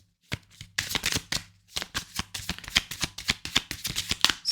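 A deck of tarot cards being shuffled up close, loud repeated riffling bursts in quick succession with brief pauses between them.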